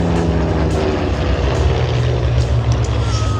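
A propeller-driven warbird roars past at the Warbirds Over Wanaka airshow, a loud, steady engine drone with a shifting pitch as it passes close overhead.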